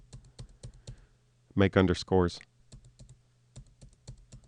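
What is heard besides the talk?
hitting the space bar on a computer keyboard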